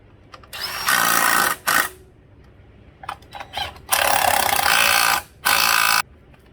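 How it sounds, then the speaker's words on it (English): An impact wrench runs down valve cover bolts on a 2012 Nissan Altima in loud, close bursts: a long rattling run, a short stab, then two more sustained runs with brief pauses between. "hit it with the impact, tighten it down"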